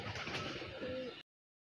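Soft pigeon cooing over a hissy outdoor background, a brief low warble near the end before the sound cuts off abruptly.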